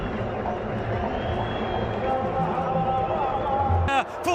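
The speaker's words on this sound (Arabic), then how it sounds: "فرحة الجماهير النصراوية" Al-Nassr football supporters in a stadium, a dense, continuous roar of crowd noise filling the background beneath an excited commentator's voice.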